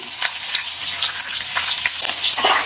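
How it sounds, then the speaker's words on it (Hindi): Chopped carrot, capsicum and cabbage hiss and crackle as they are stir-fried for vegetable fried rice, with a dense continuous sizzle and occasional spatula scrapes, close and loud, no talking. "इनको हम अच्छी तरह से भूनेंगे"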